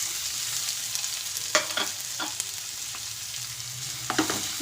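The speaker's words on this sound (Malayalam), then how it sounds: "അതിലേക്ക് നമ്മൾ ഒരു സവാള അരിഞ്ഞത് ഇട്ട് കൊടുക്കാം." Chopped onion frying in a couple of spoons of oil, a steady soft sizzle throughout with a few sharper crackles and stirring clinks near the pan.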